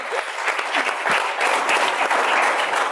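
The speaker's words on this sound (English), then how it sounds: "please give Alia a round of applause" Audience applause at an industry panel session on the waste and recycling business, a dense, even wash of many hands clapping at moderate distance, sustained for the full span before tapering slightly.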